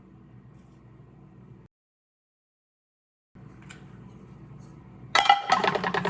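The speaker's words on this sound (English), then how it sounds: "Frying pan." A frying pan and dishes clinking in a home kitchen while being handled: soft low handling noise, a brief silence, then a bright metallic clatter toward the end.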